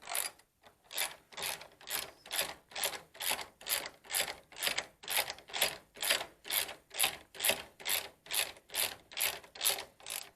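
A hand ratchet clicks in steady, even bursts while small strut bolts are tightened during a strut replacement, close and crisp, about twenty regular pulls with no talking.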